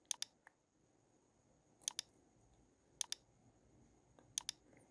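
Quiet computer mouse clicks come in quick pairs, four double-clicks spaced a second or so apart, while working in ANSYS software, with faint room hum underneath.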